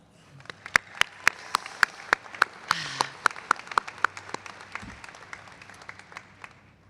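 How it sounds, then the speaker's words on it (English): Scattered applause at a 2023 dental medicine and pharmacy college commencement, a steady patter of claps with sharp, loud individual hand claps standing out near the microphone, fading toward the end. "Let's give them another round of applause."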